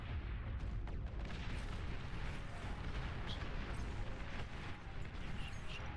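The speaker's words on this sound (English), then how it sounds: "They got artillery and shit." Artillery fire in a strategy video game, a continuous low rumbling barrage of distant booms and blasts, steady and fairly faint, layered into a dense wash of battle noise.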